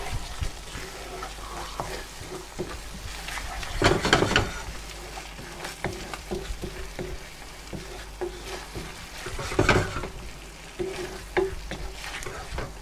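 Sugar is stirred into a thick, drying dansak curry in a pan: a continuous close sizzle with repeated scraping and sloshing stir strokes, two louder bursts standing out, and no talking.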